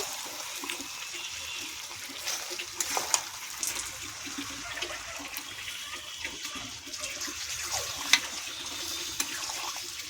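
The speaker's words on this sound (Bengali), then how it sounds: "এবার জল দেব।" Water is poured into a pot of desi chicken curry with cabbage, a soft continuous gushing and trickling with small splashes, fairly quiet and close, with no voices.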